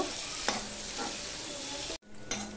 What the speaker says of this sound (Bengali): পেঁয়াজটাকেও আমি একটুখানি লাল লাল করে ভেজে নেব